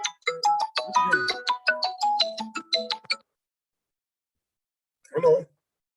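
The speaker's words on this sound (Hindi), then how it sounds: "शुक्ला फोन कर रही थी इसलिए डिस्टर्ब हो गया" A phone ringtone for an incoming call plays as a bright, stepped electronic melody of repeated tones for about three seconds, then cuts off, followed by a brief spoken word nearby.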